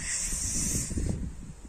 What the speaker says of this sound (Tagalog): Naririnig niyo yung tunog ng mga dahon?